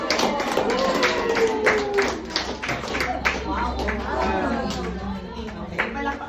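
An audience at a business presentation claps, a loose scatter of hand claps mixed with crowd chatter and a speaker talking over it.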